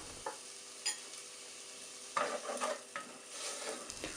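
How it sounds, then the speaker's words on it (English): Chopped chili frying in a tarka for Indian tempering, stirred over low heat: soft sizzling with a few scraping stirs of the spoon in the pan, fairly quiet and close, no talking. "Keep stirring on low heat, and half a teaspoon of chopped grinded chili."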